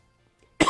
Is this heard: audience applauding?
no